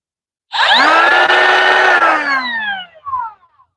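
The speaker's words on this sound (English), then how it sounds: "So that's the compact trim router" A Makita 18-volt battery-powered compact trim router spins up and runs loud and close for about two seconds with a rising whine, then winds down with a falling pitch, followed by a brief second blip.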